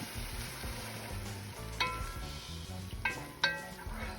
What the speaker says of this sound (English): Put in my tomatoes, the ones that I chopped up. Gonna put them right in there with them. And we're gonna stir it up.